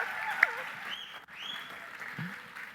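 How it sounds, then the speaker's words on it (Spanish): Brief applause for a student in a school math classroom, a short patch of clapping from a small group at moderate distance, fading quickly. "Aplauso para Agustín, por favor."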